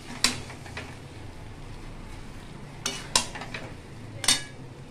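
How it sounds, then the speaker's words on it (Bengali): A spatula stirs sweetened rice in a pot with sugar just added, giving occasional sharp scrapes and metallic taps against a low, steady background hum, with long quiet gaps between strokes. "এই খুন্তি দিয়ে আমরা নাড়তে থাকবো।"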